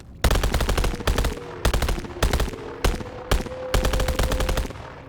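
Burst-fire gunshots from a futuristic 4-round burst weapon in the VR game BONELAB: loud, close clusters of rapid shots, about six bursts in quick succession with brief gaps between them.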